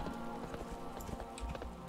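Horse mount hooves in World of Warcraft Shadowlands, a quick, steady run of clip-clop footfalls, quiet and close, with light game ambience behind.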